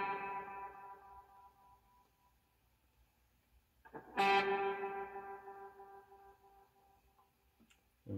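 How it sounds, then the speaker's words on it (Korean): Electric guitar through a delay effect pedal: a sustained chord fades, then a sharp strummed chord rings out and repeats in decaying echoes, fairly quiet overall with no voices. "이런 식으로 메아리 치는 소리가 나겠죠"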